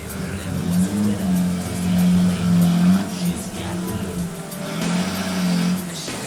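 A 1962 EK Holden revs and drives off, its engine droning in loud, rising and falling pulls with a brief lull between, close by on an outdoor street.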